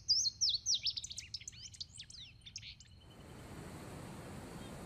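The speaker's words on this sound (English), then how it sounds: "the male birds begin to sing" Male migratory birds sing in spring, a lively burst of high chirps and trills packed close together for about three seconds, then the song drops away and a steady rushing wash takes over.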